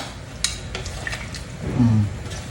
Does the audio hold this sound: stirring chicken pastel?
yes